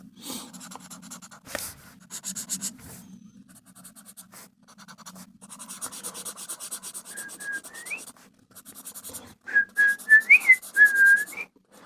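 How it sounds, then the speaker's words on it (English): A person whistles a few short, wavering notes, fairly close, mixed with rubbing and scraping noises and quiet breathy pauses. "I like having a little whistle now and then, but just not that good at it"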